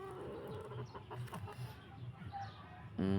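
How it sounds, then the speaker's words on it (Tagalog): Farm-bought chickens let out of their box, clucking and murmuring close by in short irregular bursts, with a louder, sharper call at the end. "Bubuksan na po natin ating nabiling manok sa galing din pong farm."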